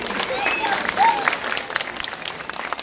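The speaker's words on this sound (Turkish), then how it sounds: "birbirimizi bir alkışlayalım bakalım o zaman" An audience at a shopping mall event with a film's cast breaks into a short burst of clapping while voices carry over it.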